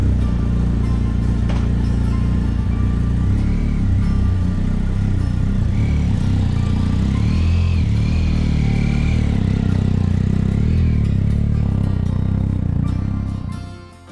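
Motorcycle engine droning steadily on a spring ride along country roads around Hürtgenwald, Nideggen and the Rursee in Germany's Eifel National Park, with wind rush and occasional pitch rises as the rider accelerates, fading slightly at the very end.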